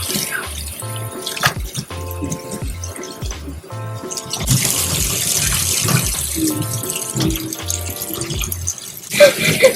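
Tap water runs steadily into a sink as tie-dyed fabric is rinsed, with splashing and dripping that continue under music for the whole stretch.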